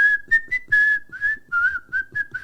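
Someone whistles the Kill Bill theme, a clear, close melodic whistle in short sustained phrases with steady pitch, alone and without talk.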